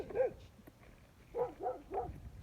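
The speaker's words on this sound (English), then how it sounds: "we're gonna go past the barking dogs again" Dogs bark somewhere off in the distance: one short bark, then two more in quick succession, faint against a quiet outdoor background.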